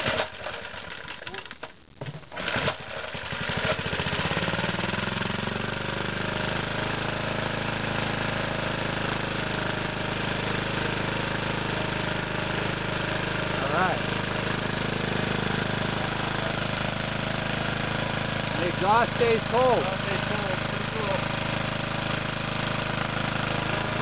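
A GEET dual reactor engine running on gas starts with a brief rough burst, then settles into a steady, continuous mid-pitched idle close by, with people speaking faintly over it.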